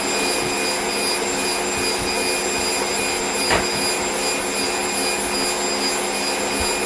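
An electric mixer beats a thick cream filling for oatmeal cream pies. It gives a loud, steady whir that holds level the whole time, with a single brief knock partway through and no talk.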